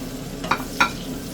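Onion dropped into hot oil fries with a low hiss, with two short, sharp sizzling bursts close together near the pan and no voices.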